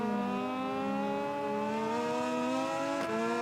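Triumph 765cc three-cylinder Moto2 race engine in MotoGP 20, a steady high-pitched drone climbing slowly in pitch as the bike accelerates, loud and continuous with no talk.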